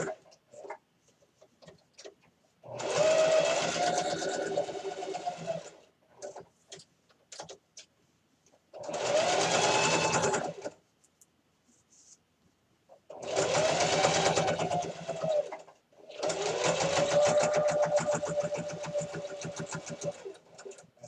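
A sewing machine stitches fabric for a microwavable bowl cozy with about a 3/8-inch seam allowance, running in four loud, steady bursts of whirring stitches separated by short pauses.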